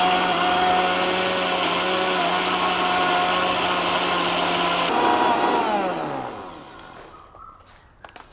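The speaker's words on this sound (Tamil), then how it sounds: "எங்களுக்கு மிக்ஸி கப்பில் அடிக்கிறதால இடிக்கிறது வந்து சுகமாக இருக்கும்." A mixer grinder grinding sesame seeds whirs loudly at a steady high pitch for several seconds, then winds down and trails off into near silence.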